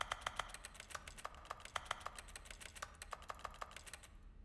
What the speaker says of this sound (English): that keyboard clicking is in the game